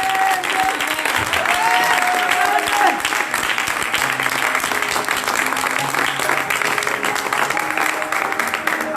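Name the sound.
congregation applauding and acclaiming Jesus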